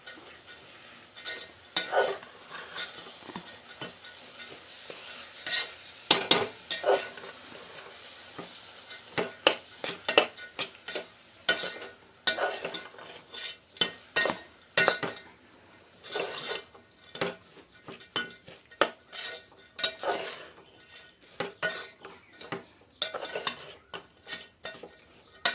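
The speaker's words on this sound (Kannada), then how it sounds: "ಇದಕ್ಕೆ ಇವಾಗ ಚೆಂದಾಗಿ ಮಿಕ್ಸ್ ಮಾಡ್ಕೊತೀನಿ ರೀ." A dhaba-style vegetable curry being mixed in a cooking pot, with a spoon scraping and clattering against the metal in irregular bursts, close and fairly loud over a quiet background, with no talking.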